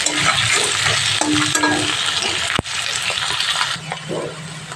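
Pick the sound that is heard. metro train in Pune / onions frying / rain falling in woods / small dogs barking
onions frying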